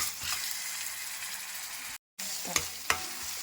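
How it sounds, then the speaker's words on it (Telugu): Ginger garlic paste fries with browned onions in a hot pan, a steady close sizzle broken by a brief silent gap and a couple of sharp stirring scrapes. "ఇలా ఆనియన్స్ బ్రౌన్గా ఫ్రై అయిన తర్వాత దాంట్లో జింజర్ గార్లిక్ పేస్ట్ వేసుకొని బాగా ఫ్రై చేసుకోవాలి."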